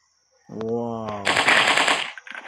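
In a mobile dinosaur hunting simulator, a tonal, drawn-out creature-like call gives way to a loud, rapid burst of automatic gunfire lasting about a second, then a few trailing shots.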